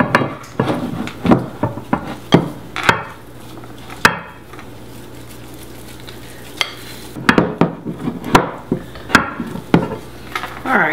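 Flour being stirred into a sourdough starter by hand, a run of close, quick scraping and tapping strokes against the container, pausing briefly in the middle before resuming.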